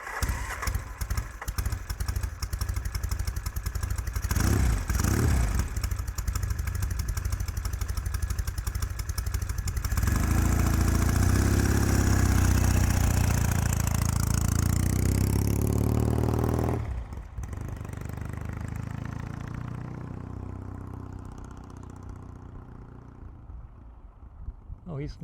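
A Norton motorcycle engine is fired up and runs, revving with a loud, rough mechanical rumble close by, then pulls away and fades into the distance, with voices talking at moments.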